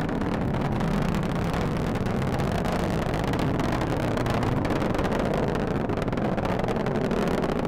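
An Atlas V rocket carrying the MUOS-2 satellite roars through its climb, a dense, unbroken broadband rumble at steady loudness, heard from a distance with wind buffeting the microphone and no speech.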